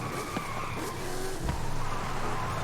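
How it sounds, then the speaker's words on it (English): DeLorean DMC-12 with a twin-turbo V8 spinning its tires and skidding in Forza Horizon 5, a short burst of squealing tire noise over a rough engine roar, near and fairly loud, no voices. "even if you lightly tap on the gas, it just wants to break traction."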